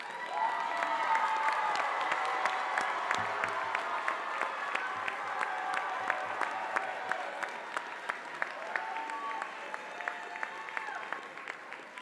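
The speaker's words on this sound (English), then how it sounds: "let's give them a big round of applause" Large graduation commencement audience applauding steadily and loudly at a university ceremony, dense clapping sustained throughout with a few scattered cheers.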